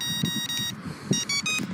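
Electronics on an RC plane give out a short series of high, thin tonal beeps, close and fairly clear over a low rumbling background.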